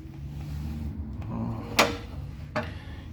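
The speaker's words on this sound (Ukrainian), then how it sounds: "така здорова, масивна дверцята піддувала" The heavy, massive ash-pit door of a Zubr Praktik solid-fuel boiler gives two sharp metallic clicks roughly a second apart over a low steady hum, fairly close.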